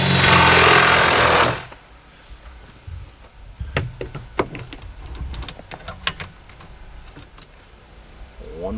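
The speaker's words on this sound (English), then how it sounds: "Now, drill a hole for a hose come out." A power drill boring a hole for a hose, a loud close whir for under two seconds that stops abruptly, followed by scattered knocks and clatter of handling.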